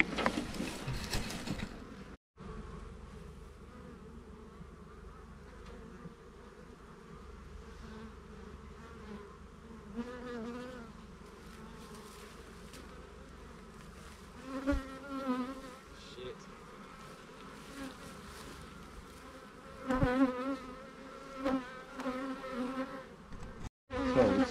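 Honey bees from a large swarm buzz steadily around a backyard hive at an off-grid home, a dense continuous drone close to the microphone, with louder passes as individual bees fly near.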